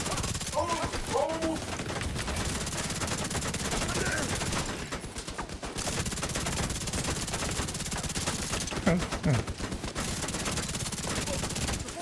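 Dense, rapid video game gunfire rattles almost continuously in bursts, loud and close, with brief pauses and a voice speaking over it at moments.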